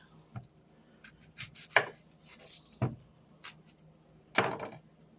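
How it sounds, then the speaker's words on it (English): A knife chops an onion on a cutting board in a handful of sharp, irregular strikes, close and clear with quiet pauses between them. "let me just chop down my onion real quick."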